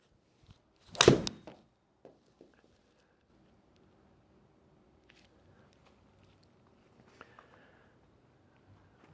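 A golf iron with a bent shaft strikes a ball in one sharp, loud impact early on, followed by faint scattered knocks and quiet outdoor ambience.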